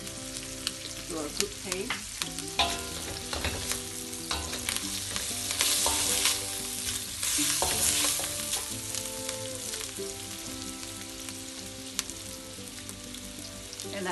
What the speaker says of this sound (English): Clean all the shallot and then fry